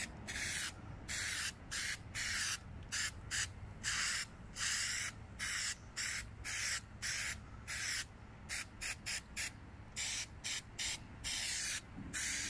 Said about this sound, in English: And now we spray them.